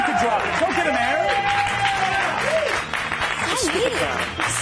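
A studio audience applauds throughout, a dense continuous wash of clapping and crowd noise with a voice talking over it.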